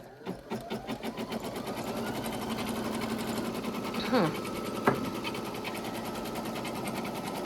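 An embroidery sewing machine stitches a placement line, giving a fast, steady mechanical whir and rapid needle rhythm that stays loud and close throughout, with a brief higher-pitched sweep midway.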